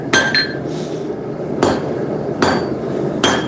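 Hammer blows on metal at a rounded-shoulder anvil during a live blacksmith forging session: four sharp, ringing strikes at uneven intervals, close and loud, with a bright metallic ring on the first.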